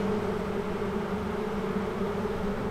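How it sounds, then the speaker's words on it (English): Close, steady droning from an open honeybee hive, an even sustained buzz with no pauses or voices. "Listen to this hive."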